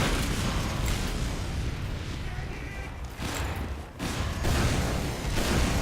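Rocket blasts from rocket jumping in the video game Team Fortress 2 boom in loud, dense succession with brief dips between bursts.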